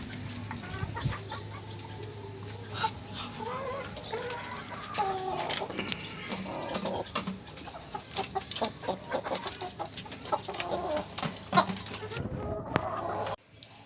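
Chickens clucking and calling inside a small chicken farm, a busy layered chorus of nearby birds with a rooster-like call and sharp clucks over a steady low hum, with a person speaking briefly.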